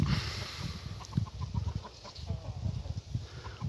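Chickens and a rooster clucking close by in quick, low, uneven bursts, a busy chatter of fowl with faint higher calls mixed in.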